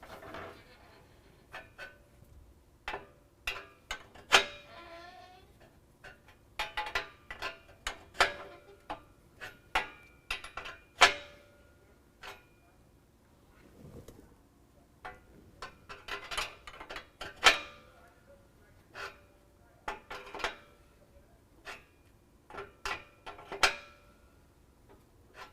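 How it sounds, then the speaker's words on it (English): Tightening exhaust bolts with a 24mm wrench while installing an MBRP Black Series exhaust system: a long series of sharp, close metallic clicks and ratcheting taps in irregular bursts, with quiet gaps between them. "we can use our 24mm wrench to tighten it down"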